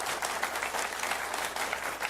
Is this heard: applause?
yes